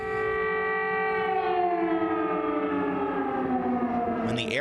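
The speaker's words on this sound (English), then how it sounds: "When the air raid sirens sound," Air raid siren wailing in Ukraine, a loud sustained tone holding steady and then sliding slowly downward, sounding alone throughout.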